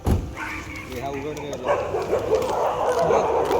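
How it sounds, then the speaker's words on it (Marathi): Several dogs bark and yip along an old highway stop, the calls rising in the near distance while people talk over them throughout. "कुत्रे पण भरपूर आहेत इकडे"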